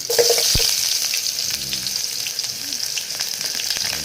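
Garlic and onion fry in hot oil in a pan, a loud continuous sizzling hiss up close with one sharp knock near the start and faint crackles throughout.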